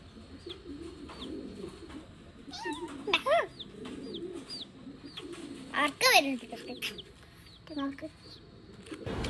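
Pet chicks chirping in high, rising peeps, scattered and repeated through the scene with a few louder bursts, close by under faint background noise.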